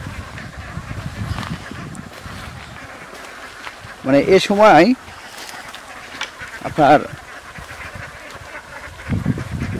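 Ducks quack in two short bursts from a harvested rice field scattered with fallen paddy grain, fairly close, mixed with someone talking over steady outdoor background noise.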